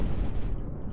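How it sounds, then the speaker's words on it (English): Heavy booming cannon fire in the video game White Creep, a dense rumbling burst of low-frequency blasts that fills the whole moment, loud and close, with no talking. "So our cannon should be able to do good work here."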